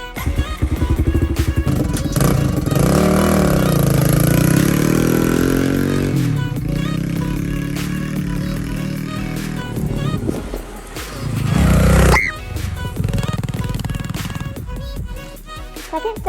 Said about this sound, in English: Step number 1, warm up the bike.